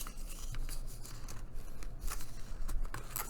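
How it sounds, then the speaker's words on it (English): Scissors snip through paper pieces in a quick run of repeated crisp cuts, close and moderately loud, with light rustling of paper between the snips. "Let's just keep cutting out our little pieces here"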